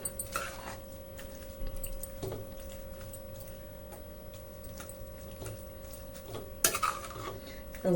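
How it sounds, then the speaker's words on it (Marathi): Cucumber cake batter, Malvani-style dhondas, being stirred in a pot: a spoon scrapes and swirls through the thick mixture in soft, irregular strokes over a steady low hum, with a sharper scrape near the end. "तवसो पर्यंत वाईस परतवत राहूया म्हणजे ढवळत राहूया"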